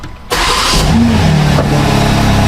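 A BMW G80 M3 with its S58 engine cranks briefly and fires up loud and close, settling at once into a steady, throaty idle.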